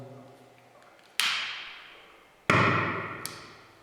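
Two loud pops a little over a second apart as bubbles of hydrogen gas, made by reacting acid with metal, ignite, each followed by a fading hiss, with a smaller click after the second.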